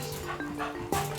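Staffordshire bull terrier making short whimpering, yipping dog sounds in a home, fairly close, with a sharper bark-like burst near the end over steady background hum.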